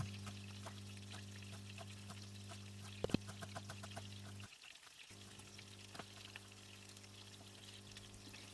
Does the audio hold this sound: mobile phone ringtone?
no